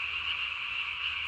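Korean tree frogs call at night in a loud, steady, unbroken trill that fills the whole moment, with no voices or other sounds.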